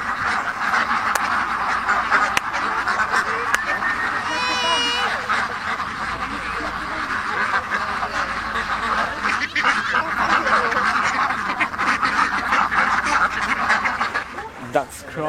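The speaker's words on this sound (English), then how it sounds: "Ducks crossing." Ducks quack loudly and continuously at an outdoor duck race event, a busy chorus of close calls mixed with goose-like honks, under steady crowd chatter and people talking.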